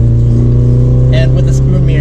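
A Honda S2000 CR with an R1000 exhaust drones loud and steady in the low range with a strong engine hum, while someone talks briefly over it.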